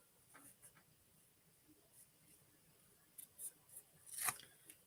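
Scissors trim ribbon in a quiet room, giving a few faint snips and soft rustles, then a sharper close cut near the end.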